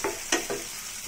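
Mustard seeds and onions frying in oil crackle and sizzle with a few short bursts of stirring, heard close up with no talking.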